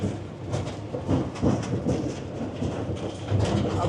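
A small tourist train runs at Kravica Waterfall, a rattling, rumbling ride with uneven clanks and jolts from close by, moderately loud and continuous.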